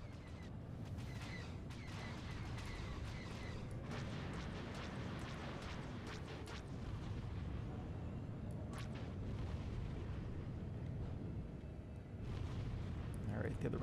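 Short range missile strikes in the space combat game SWTOR Galactic Starfighter, a steady dense barrage of booming blasts and rumbling impacts lasting throughout, loud and continuous, with someone talking over the action.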